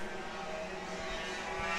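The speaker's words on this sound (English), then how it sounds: "The plague of a noisy exhaust rattling your eardrums." Racing kart engines roar with a noisy, rasping exhaust at a kart race, a dense continuous buzz of several machines passing close by.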